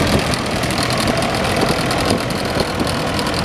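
Fordson E1A diesel Major tractor with a KFD narrow orchard conversion, running at a steam fair, its diesel engine chugging with a steady knocking idle, loud and close throughout.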